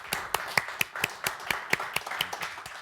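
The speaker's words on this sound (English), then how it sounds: "let's give a round of applause to Jan." Audience clapping after a panel session at an academic conference on Christian-Muslim relations, a sparse, rhythmic round of individual hand claps heard close with no talking.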